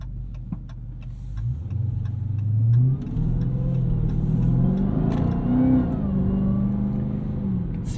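A 2023 Dodge Charger SRT Hellcat with a 717 hp engine accelerates in auto mode at light throttle while struggling for grip, its deep exhaust rumble rising in pitch through gear changes, heard from inside the car.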